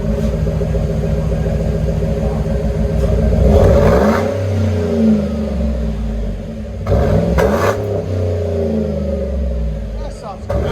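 A 2009 Chevy Silverado with a 5.3L V8 and a Flowmaster Super 10 side-exit exhaust idles with a deep rumble, then revs up loudly several times close by.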